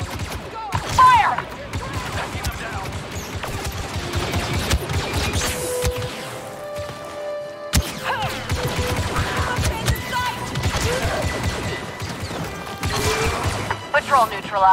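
Rapid blaster gunfire and crashing impacts fill a Star Wars Battlefront 2 battle, with repeated bursts and clatter throughout, while voices talk over the fighting.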